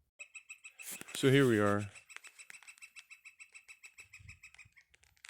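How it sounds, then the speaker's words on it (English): Birds in a garden call near a possible nest, rapid repeated sharp chirps ticking throughout, close and moderately loud, with someone speaking briefly over them. "the birds are yelling at us"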